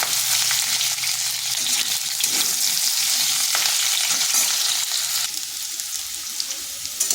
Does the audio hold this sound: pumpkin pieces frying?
yes